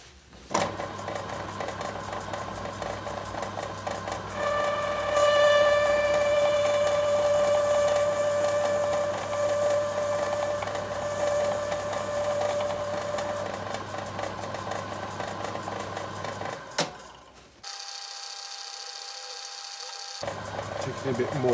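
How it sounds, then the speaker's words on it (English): A chamfer drill plunges into a metal workpiece on a small machine, giving a steady motor drone with a faint high whine that rises partway through before stopping, followed by brief quiet. "I'm going to plunge in with a chamfer drill at the point I want to do"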